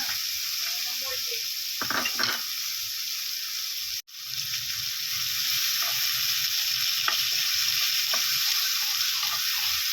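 Winged beans and okra fry in a pan with a steady, bright sizzle throughout, briefly interrupted by a sharp break, with faint clinks and stirring underneath.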